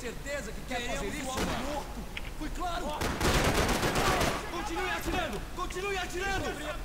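Gunfire crackles through a shootout in the video game Max Payne 3, with sharp, repeated shots and bursts running steadily beneath excited talking.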